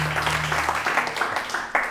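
A church congregation applauds during a worship service, a short burst of dense clapping from many hands over a low sustained hum, close and fairly loud.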